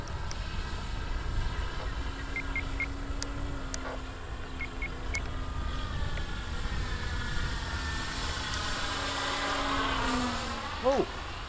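A rattly, aging model plane flies overhead with a continuous distant buzzing drone that rises and falls in pitch as it passes, under wind noise. People talk faintly in the background.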